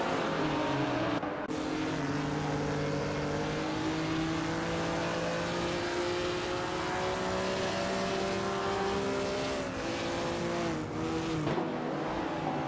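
1950s sportscars roaring around the track in an AI racing simulator game, several engines droning and revving together loudly and continuously, pitch rising and falling through gear changes with a passing whoosh near the end.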